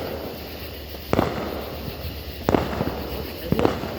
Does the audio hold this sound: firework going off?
yes